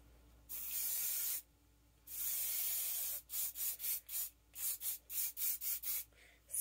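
Hairspray hisses onto styled hair close by in two long sprays, then a quick string of short rhythmic bursts, each a bright airy spray separated by near silence.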